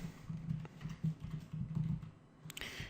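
Keys on a computer keyboard are tapped in a quick, uneven run of soft clicks, close and fairly quiet, ending with a slightly louder clack.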